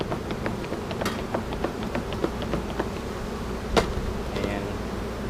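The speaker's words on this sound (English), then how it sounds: "shake a few frames of bees into the nuke" Honeybees buzz in a dense, steady swarm while hive frames are shaken into a nuc, with a few sharp knocks and taps of wood over the hum and no talking.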